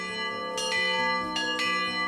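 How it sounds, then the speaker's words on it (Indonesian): Church bells ring in clear, sustained strokes during a Catholic vigil before the feast of Saint John the Baptist, with long overlapping tones and two fresh strikes sounding loud and near. "Vigili sebelum Hari Raya Yohanes Pembaptis, lonceng berdentang tanda dimulainya rangkaian perayaan"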